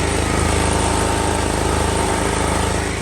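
A home generator converted from petrol to gas, its carburetor swapped for gas, runs at a steady, loud, close-up drone, with even rhythmic engine pulses and no pause or voices.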